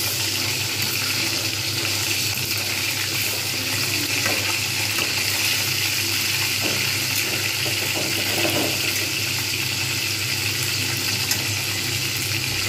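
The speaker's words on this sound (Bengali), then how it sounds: "এইভাবে মাছের যে মাথাটা ছিল সেটাও আমি এইভাবে ভেজে নিচ্ছি" Bhetki fish head frying in hot oil, a steady dense sizzle and crackle that runs unbroken throughout, with faint stirring and spatter underneath and no voices.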